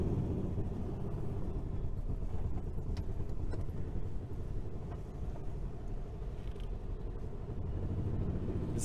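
An idling 1966 Volkswagen Fastback engine with a suspected exhaust leak, a steady low rumbling drone close by, holding an even level throughout with faint mechanical ticking and no talk.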